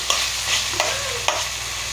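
Tomatoes are stirred into a hot frying pan for a Marathi-style junka, a steady sizzle under sharp scraping clicks of the spoon against the pan.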